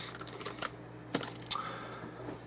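Quiet, close typing on a computer keyboard: a few scattered, sharp key clicks spread irregularly over a couple of seconds against a faint background hum.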